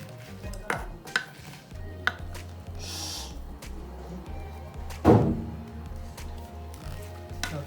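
Boiled food being mashed in a pot for homestyle chole bhature: irregular soft knocks and scrapes of a utensil against the pot, with one sharper clatter, over a low steady background hum.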